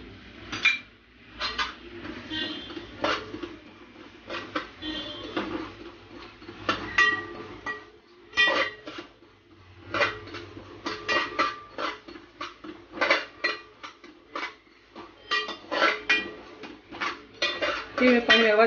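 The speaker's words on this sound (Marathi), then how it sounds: "आता आपण तीळ भाजून घेऊया।" Sesame seeds being dry-roasted in a pan, mostly heard as a spatula scraping and tapping against the metal in irregular bursts, fairly close, with faint background sound and no speech.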